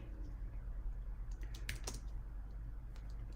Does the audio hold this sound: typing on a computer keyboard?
yes